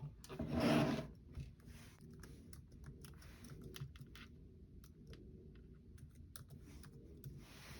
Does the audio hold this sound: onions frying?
no